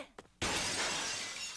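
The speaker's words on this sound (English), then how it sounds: "that breaking glass sound was so loud" Glass shatters loudly in an anime show after a brief soft lead-in, a sudden bright crash whose scattering shards ring on for over a second.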